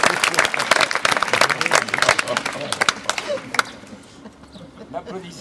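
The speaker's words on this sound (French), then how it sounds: "N'applaudissez pas trop fort le gourou quand même" Audience applause for a speaker on stage, dense and loud at first with sharp claps, thinning out after about three and a half seconds into a few scattered claps.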